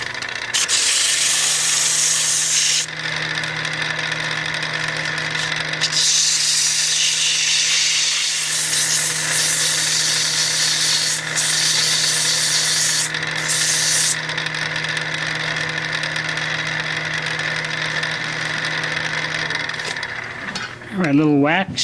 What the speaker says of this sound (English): Let me just do a little bit of sanding in there